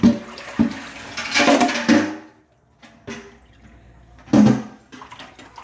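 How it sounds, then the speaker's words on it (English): Water runs from a kitchen tap while hands are washed beneath it, splashing in uneven bursts with brief pauses, close and fairly loud, with no talking. "I need to wash my hands"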